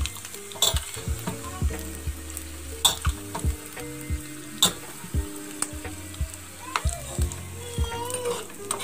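Coconut with garlic cloves dry-roasts in a pan on low heat for a lasun khobra chutney, heard as repeated close scraping and stirring knocks over a soft crackle, with a faint voice in the background.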